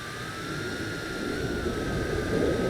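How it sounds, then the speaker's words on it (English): A jet airplane taking off in the distance gives a steady, low, rumbling roar that builds slightly, while a thin, constant whine runs over it throughout. No voices are heard. "I can hear a jet taking off."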